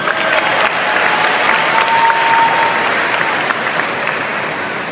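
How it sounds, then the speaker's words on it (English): A crowd at a prom ceremony gives a dense, sustained round of applause, loud and close, holding steady for about five seconds and fading slightly at the end. "A big round of applause for them as well."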